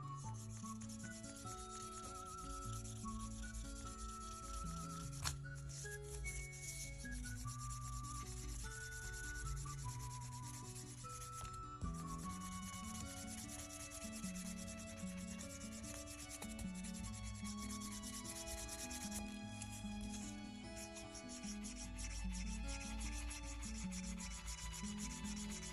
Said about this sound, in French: utilisez votre lissette pour frotter cette tranche